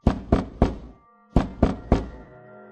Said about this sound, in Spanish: escuché unos toquidos insistentes en la puerta